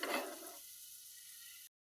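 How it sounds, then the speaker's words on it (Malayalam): Masala sautés in a pan with a soft hiss and sizzle that is brightest at first, then settles to a faint steady fizz before cutting off abruptly. "ജസ്റ്റ് ഈ ഒരു മസാലയ്ക്ക് ആവശ്യമായത് മാത്രം നമ്മളിപ്പോൾ ചേർത്ത് നന്നായിട്ട് വഴറ്റിയെടുക്കുക."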